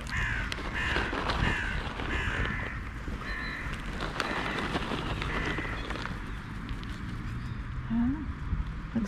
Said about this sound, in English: Look at our little crows here.